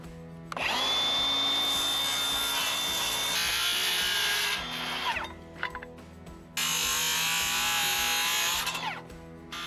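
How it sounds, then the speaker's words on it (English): A circular saw and then a jigsaw cut wood for log cabin front steps, with a loud, close, sustained whine broken by a short pause before the cutting resumes. "I started the cuts with the circular saw, then finished with the jigsaw, since the circular blade can't get into the corner."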